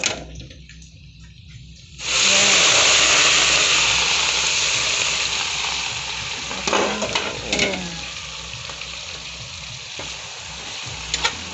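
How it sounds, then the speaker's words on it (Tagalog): Bagoong shrimp paste hits a hot pan and bursts into a loud, steady sizzle after a quiet moment, then keeps frying as a utensil scrapes and stirs through it in a few distinct strokes, with no talking. "ilagay na natin ang ating bagoong"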